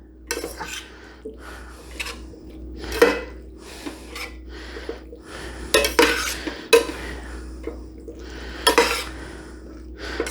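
A utensil scrapes and clanks against a pan while a hamburger and potato mixture is stirred, with irregular knocks and scraping strokes over a low steady hum.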